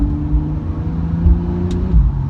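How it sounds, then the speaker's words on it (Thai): A Porsche 911 Carrera with a PDK gearbox accelerates on the road. Its loud, close engine tone rises steadily, then drops sharply in one quick gear change near the end, with no talking. "โอ้โห เกียร์ BDK นี่เปลี่ยนเร็วมาก"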